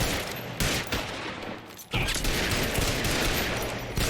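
Gunshots in the video game L.A. Noire, a burst of loud, close rapid gunfire, a brief lull, then another sharp volley of shots.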